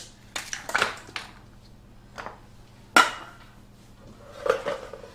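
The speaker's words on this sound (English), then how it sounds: "So let's put those in the oven." Metal baking trays clatter and knock as they are slid into a fan oven at 170 degrees, several sharp clanks spread out over a few seconds, fairly close and with no talk.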